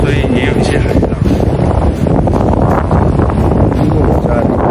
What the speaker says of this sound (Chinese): 今天蛮有风，所以也有一些海浪。